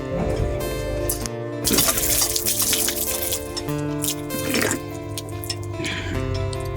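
Water runs from a school hand tap with a deep bore, splashing and trickling steadily at close range with some clatter and background noise mixed in.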